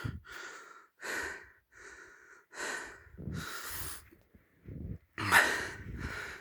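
Close, heavy breathing from a person out of breath after walking through snow in a village garden, with about eight loud, rhythmic huffs and gasps separated by short pauses.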